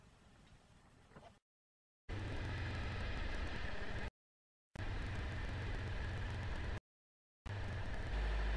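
A car idling right after start-up, its exhaust headers freshly painted: a loud, steady engine drone in three long stretches, broken by short silent gaps.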